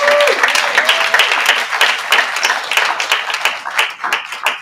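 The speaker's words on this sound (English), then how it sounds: "let's give him another round of applause" An audience at a small-business banking and finance event breaks into a fresh round of applause, dense and steady clapping that swells and fades slightly throughout, with a voice briefly audible at the start.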